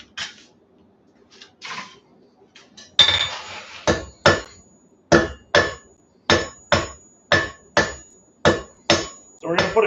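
Blacksmith's hammer striking metal on the edge of an anvil while forging a wheat twist, about a dozen sharp ringing blows in a steady rhythm after a few softer, scattered taps at the start, close and loud.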